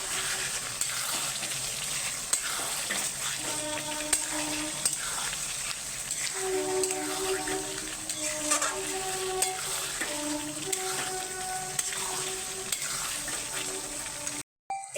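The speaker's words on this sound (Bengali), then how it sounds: "এই যে আমার পুরো মাংসটা থেকে একদম তেল বেরিয়ে এসছে, একদম শুকনো করে নিয়েছি আমি।" Chicken pieces fry dry in oil in a pan, giving a continuous close sizzle with bubbling crackles and intermittent stirring and clinking against the pan.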